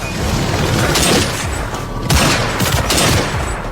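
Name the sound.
gunfire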